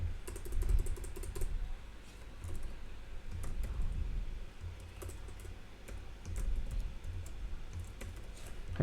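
A name being typed on a computer keyboard, steady soft clicking keystrokes in quick runs with brief pauses, close up and alone over a faint room hum.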